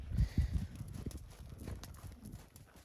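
A horse trotting in an arena makes steady, rhythmic clip-clop hoofbeats on soft footing, moderately close and fairly quiet, with no voices.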